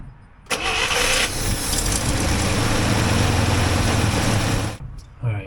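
A 1964 IH Travelall C1100 engine cranks and fires up, then runs at a loud, steady idle close by for several seconds before cutting off abruptly near the end.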